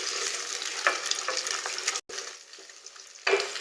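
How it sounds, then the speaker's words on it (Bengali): Egg stir-frying in a pan with a light coating of oil, a steady bright sizzle with scraping stir strokes, briefly cut off mid-way, then a louder burst of frying near the end. "ডিমটা দিয়ে আমি নেড়ে চেড়ে ভেজে নেব।"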